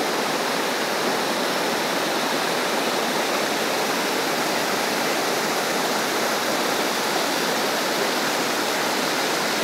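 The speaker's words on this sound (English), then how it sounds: "You can hear the water for sure." Water flows steadily into the garden turtle ponds at the Huntington Library, a constant rushing, splashing wash like a small waterfall, fairly close and unbroken, with no voices.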